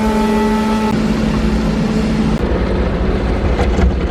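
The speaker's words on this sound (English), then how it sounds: "I'm gonna throw the bucket back on the skid steer, and I'm gonna move the snow above the pits" A skid steer engine drones loudly nearby as it moves snow on a farm, with a steady tonal hum for the first two seconds that gives way to rough rumbling and scraping.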